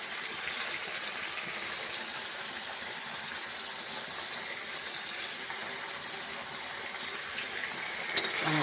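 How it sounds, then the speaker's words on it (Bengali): Tomatoes added to browning chicken in a pan, a soft, even sizzling hiss that holds steady throughout, fairly quiet and close, with a small clink near the end. "টমেটোটা দিয়ে একটু ভাজা ভাজা করবো"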